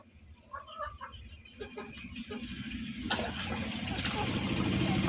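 A desi country chicken clucks a few times up close, followed by a rising wash of background noise and clatter.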